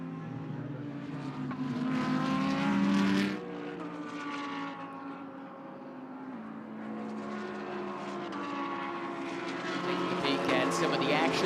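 GT3 and GT4 race cars running mixed together at Indianapolis, engines droning steadily in the background beneath continuous commentary talk.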